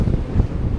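Wind and waves at a narrow boat landing on an island crossing roar as a dense, rumbling gust with wind buffeting the microphone, brief and loud with no talk.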